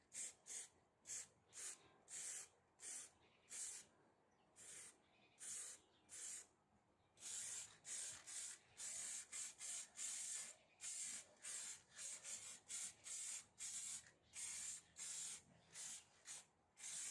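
Aerosol spray paint hissing onto the inside of a rusty, pitted microwave: short, repeated bursts at an even pace, closer and stronger in the second half, with no talking.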